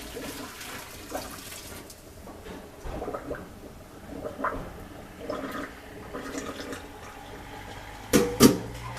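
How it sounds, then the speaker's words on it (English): Goat milk whey left from cheesemaking pours down a kitchen sink drain with a steady running, gurgling flow that grows louder with a splashy gulp near the end. "it's just going to go down the sink"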